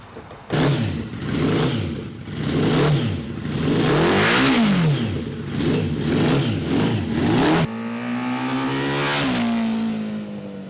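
A cheap Suzuki motorcycle engine revving up and down in repeated loud surges close by, then settling into a steadier high drone near the end, no voices heard.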